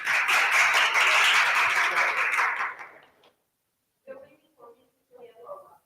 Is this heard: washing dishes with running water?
no